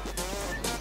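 Short, harsh clucking squawks of chickens in Counter-Strike: Global Offensive, two quick bursts close together over a steady background hum.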